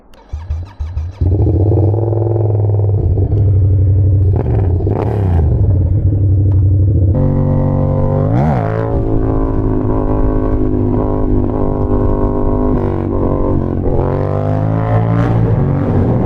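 A 2021 Yamaha MT-07 motorcycle on a cold day fires up after a brief crank, then settles into a loud, close, lumpy idle with a few sharp throttle blips that rise and fall.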